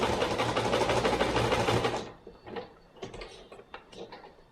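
A sewing machine runs a long basting stitch along a fabric edge, whirring steadily and loud for about two seconds before stopping, followed by a few soft clicks and fabric handling noises.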